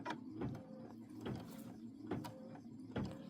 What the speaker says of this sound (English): Now it's going to sew the 1/4 inch.